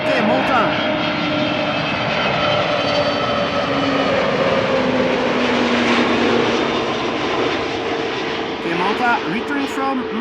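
An airliner inbound from Malta roars steadily at Amsterdam Schiphol, a loud continuous engine drone with shifting whine tones holding for the whole stretch, fairly close and unbroken.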